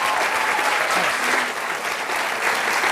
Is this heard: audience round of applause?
yes